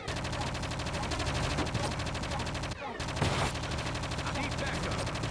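Gunfire in the PS2 video game Project Eden: rapid, loud automatic bursts rattling continuously, broken by a brief pause near the middle before the firing resumes, with game sounds layered throughout.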